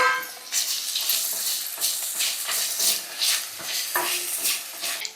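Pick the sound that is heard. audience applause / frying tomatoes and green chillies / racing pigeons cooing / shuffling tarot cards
frying tomatoes and green chillies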